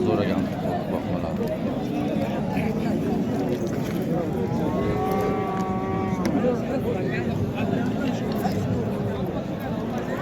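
Bull calves at a busy cattle market, with low moos rising over a constant crowd of chatter and voices.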